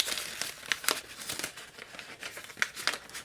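Paper covering is peeled and torn from the top of a bottle of Yellow Belly imperial stout with peanut and biscuit, close, soft crinkling and rustling with irregular crackles and no speech.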